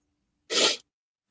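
A single sharp sneeze bursts out close by at a college ice hockey game, brief and loud against near silence.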